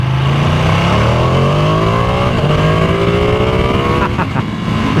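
Ducati Streetfighter V2 motorcycle engine revving hard and close, its pitch climbing steadily through a rising wind-up before briefly dropping and pulsing near the end.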